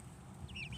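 Cochin Bantam chickens cluck softly and briefly nearby, a few quiet rising calls over low background rumble.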